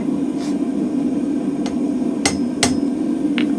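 Sharp metallic hammer strikes on mild steel with a spring fuller ring out a few times at uneven intervals over a steady droning background hum.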